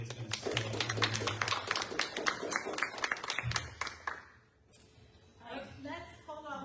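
An audience at a school board candidate forum applauds in a sustained burst of claps that then fades, with a voice speaking over the end.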